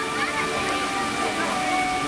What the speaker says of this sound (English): All the fountains and waterfalls.